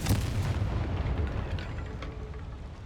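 A Confringo spell explosion in the video game Hogwarts Legacy, a heavy booming blast that hits loud and then rumbles and fades over a few seconds, heard alone.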